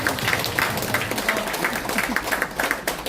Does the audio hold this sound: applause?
yes